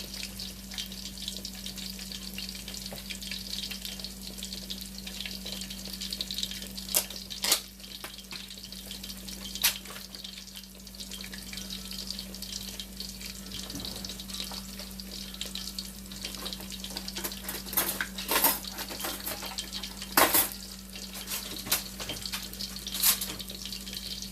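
Butter being stirred into a mixture in a hot pan while fish is fried, with a constant sizzle, a low hum and occasional clinks of the utensil against the pan, close up and without speech.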